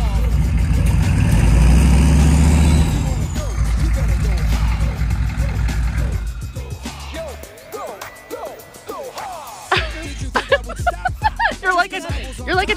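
A K5 Blazer's engine churns loud and uneven at first, then sputters and fades under loud voices of people talking, with clattering and knocks toward the end.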